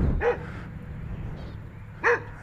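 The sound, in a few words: dog barking in the woods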